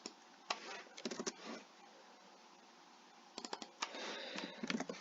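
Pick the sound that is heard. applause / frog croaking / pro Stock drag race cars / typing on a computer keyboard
typing on a computer keyboard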